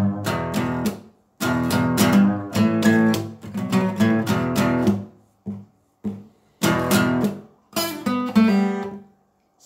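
Acoustic guitar strums a riff in choppy, rhythmic bursts of chords separated by short gaps, loud and close with no voices.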